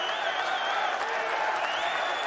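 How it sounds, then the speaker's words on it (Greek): A crowd applauds at a Greek Basketball League game between Panathinaikos and Maroussi. Steady clapping fills the arena for a few seconds, with voices faint underneath. "Και δέχεται και το χειροκρότημα του κόσμου"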